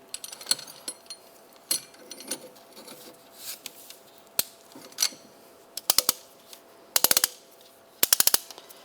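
A caliper compressing tool works on the rear brake caliper of a 2004-2010 BMW X3, giving sharp metallic clicks and ratcheting bursts in irregular clusters, some in quick rapid runs, close by against a quiet garage background.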